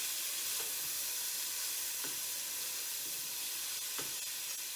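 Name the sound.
garlic sizzling in a pan while being stirred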